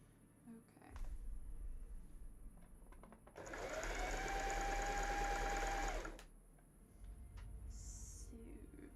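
A domestic sewing machine stitching layered cosplay fabric runs in one steady burst of about three seconds. It stands alone and close, with quiet room noise and small clicks before and after.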